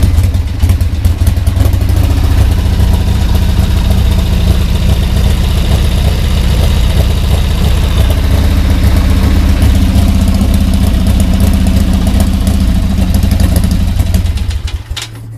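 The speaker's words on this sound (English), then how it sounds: "So this is just the old Harley Sportster, an 89 XL 1220 over with SNS rods." A 1989 Harley-Davidson Sportster XL 1200, bored over, with S&S rods and a carburetor, idles loud and close in a steady, deep, loping rumble that drops away at the very end.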